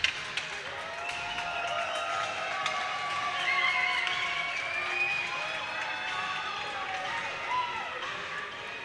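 Crowd at a university ice hockey game between the SFU Red Leafs and UVic Vikes applauds and cheers as a steady, dense wash of clapping and voices in an arena, with a commentator talking over it.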